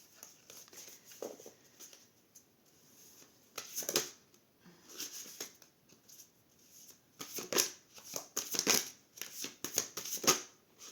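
A deck of oracle cards is shuffled by hand in repeated soft riffling bursts, close and quiet, with short pauses between rounds and no speech.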